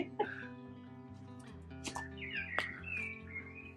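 Garden birds chirp near a bird box, several short, bright tweets and calls scattered over a few seconds against a steady low background hum, moderately faint and with no speech.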